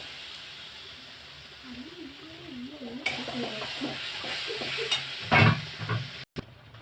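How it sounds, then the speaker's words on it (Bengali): Spice paste cooks in oil in a pan with a soft, steady sizzle. Occasional stirring scrapes come through, and a sharper burst of frying near the end is followed by a brief cut. "এখন এই কষাচ্ছি, কষাতে কষাতে যখন একদম বেশ তেলটা ছেড়ে আসবে"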